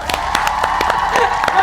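Rapid clapping from a small group during an Odia comedy sketch, a steady run of sharp claps over background chatter and voices.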